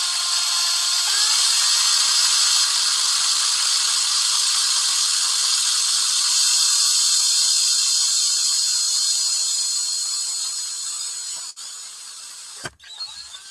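A small hand drill boring a hole in a miniature figure for pinning, giving a steady high whine that holds for about ten seconds, then fades and stops with a couple of sharp clicks.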